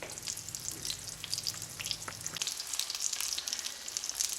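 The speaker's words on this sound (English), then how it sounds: "we're just going to brown both sides and make sure the fish gets cooked properly" Cornmeal-coated tilapia fillets fry in oil with a steady, close crackling sizzle that runs throughout, while a low hum underneath cuts out partway through.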